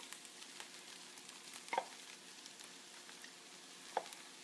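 Partially cooked shrimp hit a hot pan for shrimp fried rice, a quiet, steady sizzle with two small taps of utensil on pan, no voices.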